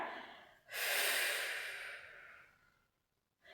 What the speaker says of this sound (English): And last big breath.